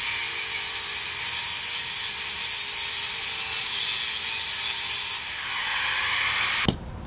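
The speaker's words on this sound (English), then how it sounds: "We're using a Metabo grinder with a diamond blade." A loud, steady high-pitched grinding whine from a Metabo angle grinder with a diamond blade cutting mortar around an old foundation vent runs continuously, shifting tone partway through as the blade bites, then cuts off abruptly near the end.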